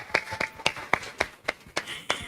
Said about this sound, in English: Give applause to Aska and friend